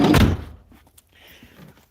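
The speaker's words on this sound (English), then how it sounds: "I'm going to open the side door." A camper van's side door is opened with one loud, close thunk and slide at the start, followed by quieter scraping and rattling after it.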